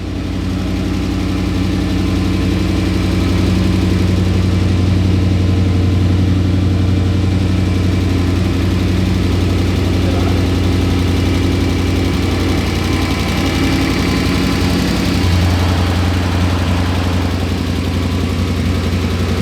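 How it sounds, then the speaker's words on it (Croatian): A Mercedes AMG engine idles loudly and steadily after its first start with a new exhaust, a deep rumbling drone with a brief dip in pitch near the end, with no talking. "upalili smo AMG-a, radi brutalno, prima gas kao nikada"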